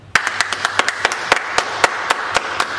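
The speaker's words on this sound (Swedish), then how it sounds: "Och en stor applåd." Audience clapping after a dance school's spring show: a dozen or so sharp, distinct hand claps in a loose rhythm, sounding like a small group rather than a full crowd, with no talking.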